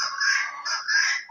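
An aseel rooster crows loudly and close, two drawn-out calls back to back with a brief break between them.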